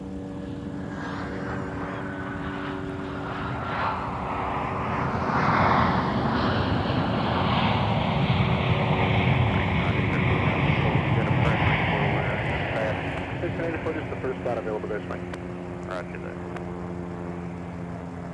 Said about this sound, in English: I think that helicopter is going to fly right over where we are